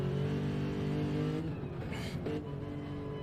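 Race car engine in the Daytona 24H sim racing game, held at a steady droning pitch under throttle, then briefly easing and revving again, fairly loud and continuous.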